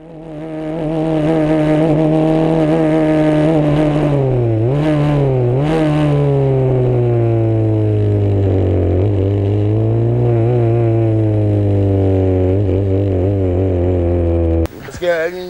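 A Formula 3 race car engine on the Paul Ricard circuit drones loud and steady from onboard, its pitch sweeping up and down through shifts with a couple of sharp dips, then cutting off abruptly near the end.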